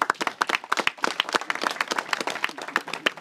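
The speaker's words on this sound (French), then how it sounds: "Je crois que ça devrait mériter quelques applaudissements." Scattered applause at a school report-card ceremony at a collège, a modest group clapping with individual hand claps clearly distinct in an uneven, fairly close patter.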